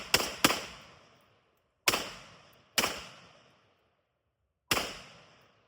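An AR-15 rifle fires five sharp, loud shots outdoors: a quick pair, then three single shots spaced about a second or two apart, each with a fading echo tail.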